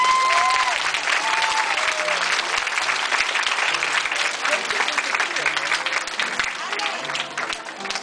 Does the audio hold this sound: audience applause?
yes